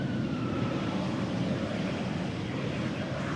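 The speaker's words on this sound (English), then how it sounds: "another seldomly seen Embraer 190 over here. This one arriving from Newcastle." Embraer 190 airliner arriving at Amsterdam Schiphol, a steady, moderately loud jet engine rumble and whine, constant throughout without talk.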